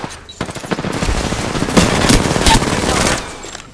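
Rapid automatic gunfire in Apex Legends, a loud, dense burst of shots running almost continuously for several seconds with a few sharper cracks, close up and dominating the mix.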